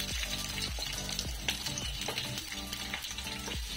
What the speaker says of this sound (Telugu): ఇది ఫ్రై అయ్యేంత వరకు మనము దీన్ని సిమ్లో పెట్టుకొని ఫ్రై చేసుకుంటాం.